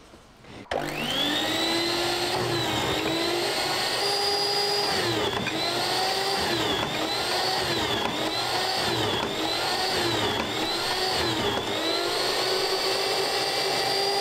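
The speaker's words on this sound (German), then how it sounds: "Wir schneiden das mit der Brotmaschine, dann kann die das so einfacher einfrieren" An electric bread slicer cuts a loaf of whole grain wheat and rye bread made with yogurt, a loud continuous motor whine that dips and rises in a regular rhythm as each slice passes through, close and steady.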